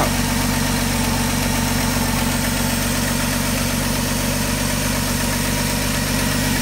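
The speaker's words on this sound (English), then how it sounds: "there is a bit of an exhaust leak. You can hear it when you go." A Ford F-150 truck engine idles loudly and continuously with an exhaust leak, a rough, raspy rumble and slight rattling vibration throughout, no voices.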